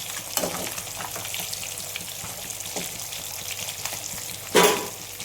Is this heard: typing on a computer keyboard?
no